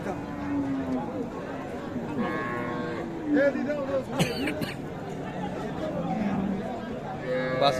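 Cows low at a busy livestock market where dairy cows and calves are sold. Several drawn-out moos sound at moderate distance over steady crowd chatter and nearby talking voices.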